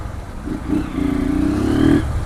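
Motorcycle engine revving hard during wheelie stunts, a couple of short throttle blips followed by a sustained rising rev, fairly close and clear with an intermittent cutting fault.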